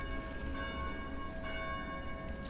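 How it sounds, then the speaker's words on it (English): Church bells in the video game Dead Island ring steadily in a sustained, resonant peal, loud and continuous with overlapping tones and no talk. "God, the bells are driving him crazy"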